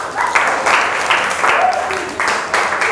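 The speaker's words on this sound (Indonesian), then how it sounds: "Tepuk tangan untuk kelompok 4." A small group claps for a classroom group during an academic supervision coaching session, with a brief, uneven patter of hands and voices talking over it.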